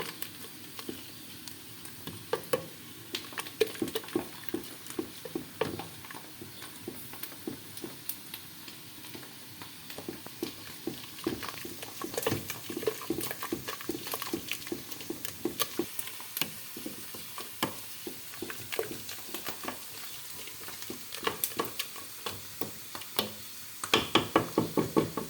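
Chicken pastilla filling being stirred in a pan, with a soft frying sizzle under frequent clicks and knocks of a utensil against the pan, irregular and close, continuing steadily with louder scrapes toward the end.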